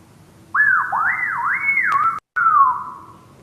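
A person whistles a swooping, warbling tune, sliding up and down in pitch, clear and close, with a brief cut near the end.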